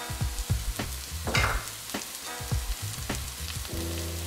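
Ingredients sautéing in a pan for an Iraqi fish dish in herb sauce, a close, loud sizzle broken by rhythmic scraping stir strokes roughly every half second, with no one talking.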